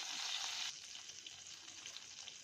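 A big spoonful of butter heats and sizzles in a pan over a low gas flame, a soft, even crackle at close range that briefly surges at the start and then settles, with no voices.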